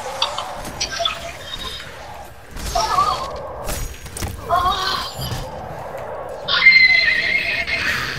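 Horse in a video game neighing and whinnying in several loud bursts, with hoof clip-clops and game effects between them, and faint talk in the background.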